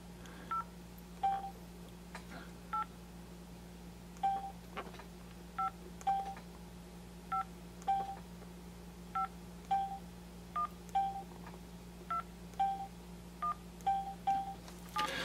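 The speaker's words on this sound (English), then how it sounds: "So we'll just dial a quick number." Touch-tone dialing on an LG Dare phone: a run of short DTMF beeps in an uneven rhythm, some spaced apart and some in quick pairs, faint and close over a low steady hum, with no talking.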